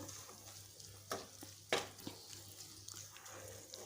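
Quiet sizzling of onion-garlic spice masala sautéing in a pan for Bombay duck curry, with a few scraping clicks of a spoon stirring, a low hum underneath.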